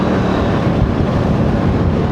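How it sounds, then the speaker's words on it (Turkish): Dense, roaring wind buffets the microphone continuously at a highland campsite in Amasya, a loud broadband rush with no pauses and no voices. "Dediğim gibi aşırı rüzgar var"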